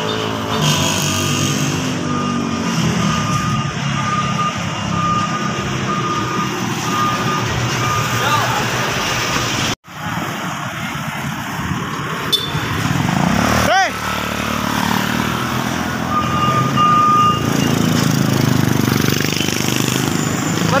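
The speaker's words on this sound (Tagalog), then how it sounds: "maganda yung daloy ng traffic guys dito sa pier ang Pantalan" Traffic flows past at a pier, with truck engines rumbling loudly and reversing beeps sounding through the steady din while people talk nearby.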